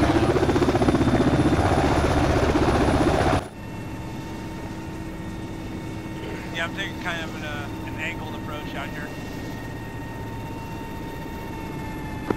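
Steady aircraft engine drone from a plane in the Arma 3 video game, loud and continuous throughout, with a sharp drop in level partway through, while players talk over radio chatter.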